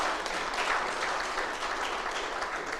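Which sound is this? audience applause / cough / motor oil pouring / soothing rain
audience applause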